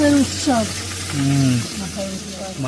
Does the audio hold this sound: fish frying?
yes